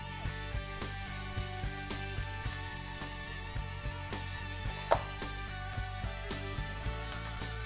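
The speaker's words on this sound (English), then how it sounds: "we're going to go ahead and sear it on all sides" Chicken sears in a smoking hot sauté pan over a high flame, giving a steady close sizzle with soft intermittent ticks and one sharper pop, no voices.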